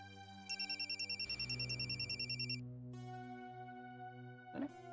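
An electronic telephone ringtone in a Marathi TV drama scene, a fast pulsing trill of bright repeated tones over soft background music, which stops before a brief knock-like thump.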